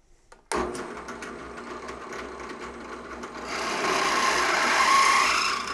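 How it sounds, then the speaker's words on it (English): A drill press bores into steel box tubing to enlarge existing holes, with a sharp start followed by a steady grinding, cutting rasp that grows louder and rougher partway through. No one talks. "Let's begin drilling."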